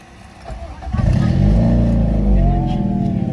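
A Honda Civic FD 1.8 automatic from 2009 starts up and its engine settles into a loud, booming idle through a loud exhaust, heard close and steady after a brief quieter moment.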